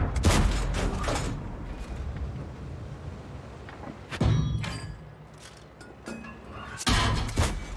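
In an armored-combat game, cannon shells from an M10 RBFM slam into a Pawlack tank as heavy booming impacts in three separate bursts, each fading into a low rumble.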